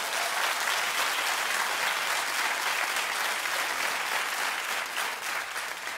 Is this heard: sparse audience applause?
yes